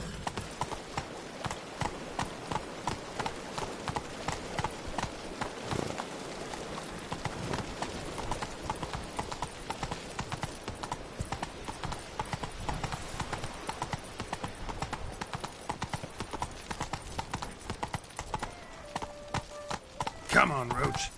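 Horse hoofbeats clip-clop steadily throughout as Roach gallops in The Witcher 3 Wild Hunt, a rhythmic near pounding with game ambience and a voice speaking over it.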